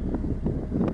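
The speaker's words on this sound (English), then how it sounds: "It is really windy where they are, as we can see from the original sound as the camera pans across the riverbank." Strong wind roars steadily across a riverbank, heard from a boat on the water, with rushing gusts swelling and easing in a continuous broadband blast close to the microphone.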